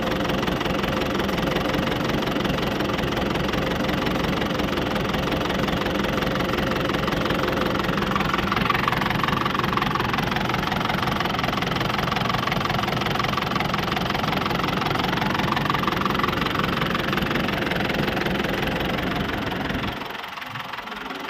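A Ford 6600 tractor's diesel engine idles in a steady, even rumble with a faint knocking, loud and close. It keeps going for about twenty seconds, then cuts out near the end.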